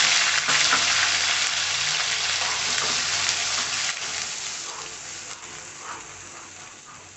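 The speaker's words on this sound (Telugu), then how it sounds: "ఇప్పుడు ఈ ఆనియన్ పేస్ట్ ఉంది కదా, అది కూడా ఇందులో యాడ్ చేసుకొని చక్కగా ఫ్రై అవ్వండి." Onion paste frying in a pan for a prawn curry gives a loud, dense, continuous sizzle that slowly eases off, close by with no voices.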